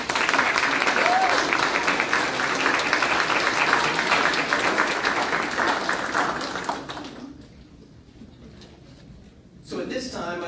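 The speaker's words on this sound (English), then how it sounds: "applause." Full, loud audience applause at a university doctoral hooding ceremony runs for about seven seconds, then tapers off into quiet room noise before a speaker resumes.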